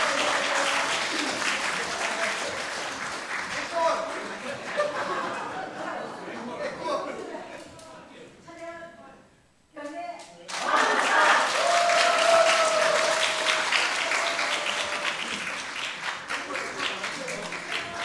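An audience applauds an arts performance team at the close of a stage show, with loud, sustained clapping that briefly dies down and then swells again, mixed with crowd voices.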